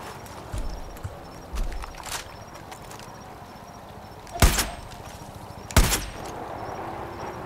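Gunfire in the Far Cry 5 video game: two sharp, loud shots spaced about a second apart, preceded by softer thumps and clatter over a steady ambient background.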